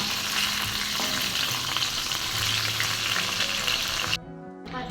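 Sliced sweet potatoes cook in a pan with coconut oil and salt, a dense, loud, continuous sizzle heard close up that cuts off abruptly near the end.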